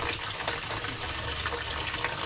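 Steady running water from a tap splashes over sweet potatoes being rinsed before peeling, a continuous close hiss of flowing water with no talking.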